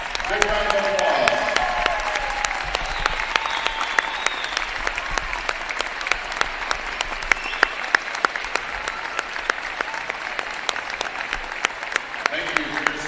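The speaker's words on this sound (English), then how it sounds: "Big round of applause." Sustained crowd applause fills a gym at a girls high school basketball game between Valparaiso and Chesterton, loud and dense for the whole stretch, with an announcer's voice heard at the start.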